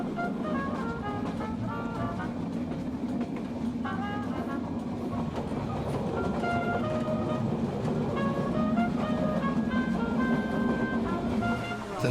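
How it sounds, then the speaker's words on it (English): A train hauled by a large 1930s tank engine runs along a 10-mile single-track line near Bad Doberan. It gives a steady, continuous rumble with tonal squeals and ringing throughout, loud and close. "The trains on this 10-mile route are worked by large tank engines built in the"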